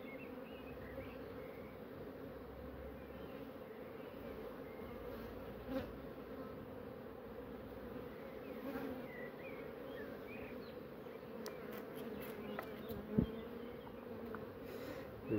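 Honeybees buzz in a continuous, close, moderate drone as a hive is opened and its frames inspected, with a few faint knocks and clicks of handling along the way.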